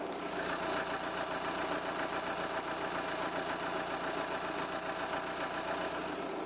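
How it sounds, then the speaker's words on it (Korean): An Audi Q5 2.0 TDI quattro diesel SUV idles steadily with a faint, even clatter, a continuous low engine hum with no voices over it. "바로 엔진 소리 한번 들려드릴게요"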